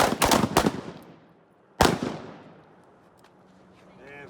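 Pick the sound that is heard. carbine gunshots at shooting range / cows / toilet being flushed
carbine gunshots at shooting range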